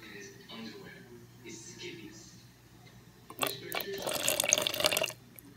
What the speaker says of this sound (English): And then I'm going to just pour in the vinegar.